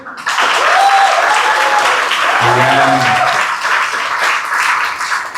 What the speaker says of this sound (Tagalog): Palakpakan po natin ang ating Diyos na buhay.